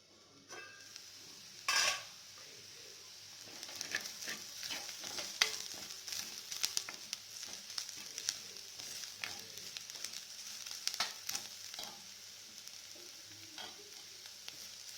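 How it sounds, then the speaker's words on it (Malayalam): Jackfruit seeds sauté in a pan with a soft, steady sizzle, punctuated by light scraping and clinking from a spoon stirring against the metal. "നന്നായി വഴന്ന് വരണം."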